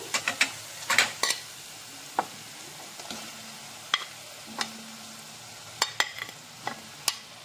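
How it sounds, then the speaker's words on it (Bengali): Fried potatoes stirred into sizzling masala in a pan, with a steady sizzle under repeated scraping and clinking strokes of a spoon against the pan, close and moderately loud. "মশলাটা আমি কষিয়ে নিয়েছি। এবার দিয়ে দেব ভেজে রাখা আলু,"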